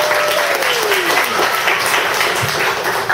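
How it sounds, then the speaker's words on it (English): Steady, dense applause from an audience at a technical lecture fills the whole stretch, loud and continuous, with a faint tone sliding downward early on. "Please give a great big round of applause"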